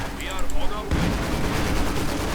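Gunfire and artillery in the World War II strategy game Company of Heroes 2, a steady barrage of shots and blasts that turns dense and continuous partway through, mixed with game effects and a voice talking faintly.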